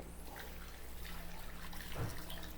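Steady rushing water runs continuously, poured into a pot for cooking pork ribs kaldereta, with a faint hum underneath and no voices.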